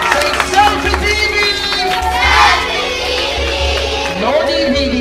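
A school crowd of students and uniformed officers at a Jamaican careers day claps and shouts loudly, a dense roar of hands and young voices with a strong hum underneath.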